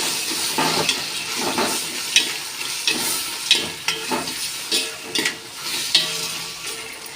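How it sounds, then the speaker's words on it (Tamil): Ginger garlic paste sautéing in a pan for semiya pulao, a continuous sizzle and hiss punctuated by regular scraping stirs of a spoon against the pan, close and fairly loud. "நல்லா வதங்கிட்டு இருக்கு இஞ்சி பூண்டு விழுது"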